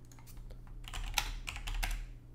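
Rapid keystrokes on a computer keyboard while entering a terminal command in a homelab server setup, a dense run of close clicks lasting a couple of seconds with no talking.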